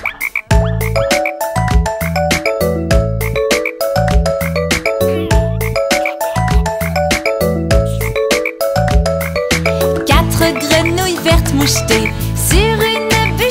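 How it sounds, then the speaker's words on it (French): Frog croaks in a French children's nursery rhyme about green speckled frogs, a loud steady rhythmic pattern of croak sounds set to bouncy music throughout. "Reste quatre grenouilles vertes mouchetées,"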